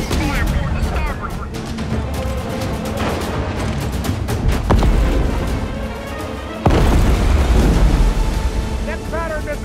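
Naval guns fire from a WWII destroyer at a submarine in a battle scene, heavy booming blasts and rumbling bursts layered over a dense war-film soundscape with dramatic music and shouted commands.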